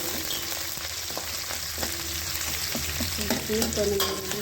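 Tempering spices, chana dal and curry leaves frying in hot oil for a cabbage curry, a steady close sizzle with frequent spoon stirring and scraping against the pan, no speech.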